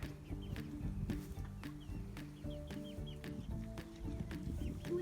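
Four young chickens clucking in a garden, a busy run of short, overlapping clucks and calls close by, with a few sharp ticks and scuffs amid the flock's chatter.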